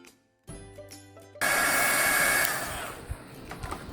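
Heat tool heat-setting paint on an artist trading card: after faint tapping, a loud steady blowing whoosh starts abruptly and runs for a few seconds before easing, close and with no talk.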